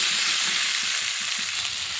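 Onion, ginger, potato and radish sizzle and fry steadily in a pan for a Bengali labra, with faint rhythmic stirring scrapes under a loud, continuous hiss and no voices.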